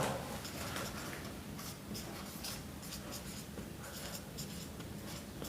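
Pen or marker scratches steadily across a surface in short, quiet strokes while a math criterion is written out by hand, soft and close with no talk.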